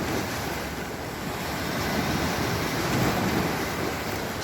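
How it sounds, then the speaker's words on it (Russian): Evening waves of the Mediterranean Sea in a light breeze, a constant broad wash of surf mixed with wind rumble on the microphone, fairly loud and unbroken with no speech. "Вечерняя волна, Средиземное море."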